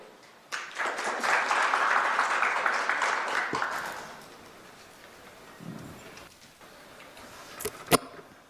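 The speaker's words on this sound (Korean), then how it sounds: "큰 박수로 환영해 주시기 바랍니다" A seminar audience in Seoul welcomes a guest speaker with a burst of applause that holds steady for a few seconds and then dies away, leaving a quiet room with a few faint knocks and a sharp click near the end.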